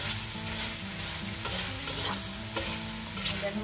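Minced mutton frying in oil over medium-low heat, a steady close crackling sizzle with soft stirring scrapes throughout and no voices.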